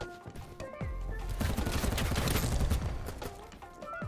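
Rapid gunfire from weapons in the game BattleBit Remastered, with dense, loud bursts of shots fired almost continuously throughout.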